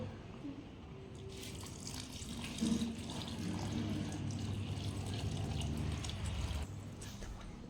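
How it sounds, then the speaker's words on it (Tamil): Water poured from a container into a discarded box filled with soil for a home kitchen garden, a steady close splashing gush lasting several seconds, with a brief louder splash near the middle. "அடுத்து அதில் தண்ணி ஊற்ற போகிறோம்."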